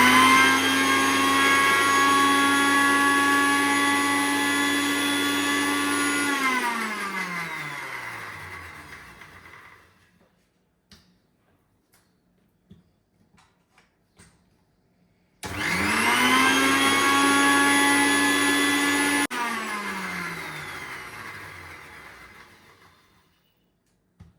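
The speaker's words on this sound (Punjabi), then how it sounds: "ਇਹਨੂੰ ਆਪਾਂ ਗ੍ਰਾਈਂਡ ਕਰ ਲੈਣੇ" An electric grinder whirs loudly as it grinds ingredients for a homemade drink, running steadily for several seconds, winding down to silence, then starting again in a second burst before spinning down.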